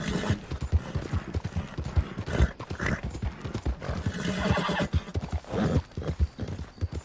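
A horse in Red Dead Redemption 2 on PS4, dying, gives repeated strained neighs and whinnies over clopping hooves and game sounds, loud and close, with bursts of gunfire around it.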